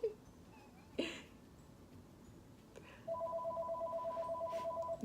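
A broken house phone gives two short clicks, then an electronic ring starts and trills steadily in a fast warbling pulse. It is quiet and a little distant in an indoor room.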